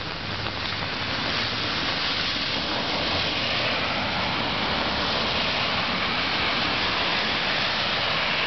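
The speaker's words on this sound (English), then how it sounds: "There's the mud waterfall." Muddy stormwater runoff from a development site pours down as a waterfall, a loud, steady rushing roar throughout with no talking.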